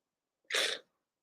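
A single sneeze from someone with allergies, short and sharp, bursting close to the mic and dying away within half a second, alone in otherwise quiet surroundings.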